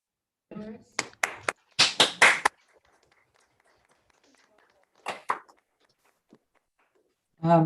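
Scattered hand claps at a senior school debate final for the participants, a few quick sharp claps in a short burst and then sparse ones after pauses, close and fairly loud, with a voice at the end.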